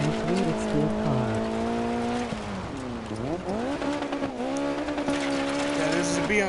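A BMW M3 race car with a spoiler, rear-wheel drive, in a video game: loud engine whine rising and falling through gear shifts, with tire squeal as it corners, under a person talking.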